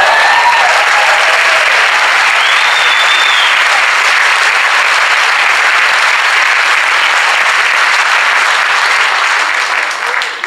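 A large crowd of about 600 fills a university hall with loud, sustained applause for the full ten seconds, dense and steady before thinning slightly at the end.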